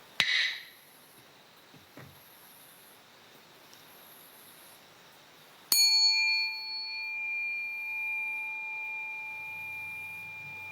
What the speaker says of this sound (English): a bell indicates a short break in which tired limbs can be rearranged before the next session